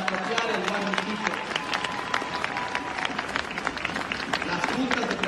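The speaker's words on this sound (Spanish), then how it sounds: "yo quiero que también le demos aplauso a la prefectura con el Warmi Pichincha" Audience applause at a Pichincha prefecture public event, steady dense clapping filling the whole stretch with crowd noise, a voice murmuring faintly underneath.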